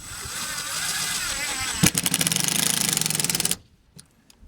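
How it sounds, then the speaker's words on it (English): Power screwdriver driving screws into an aluminum mobile home exterior window frame, a steady whirring drone followed by a louder rapid ratcheting burst that stops abruptly, close and loud. "go ahead and just put all the screws in all these holes"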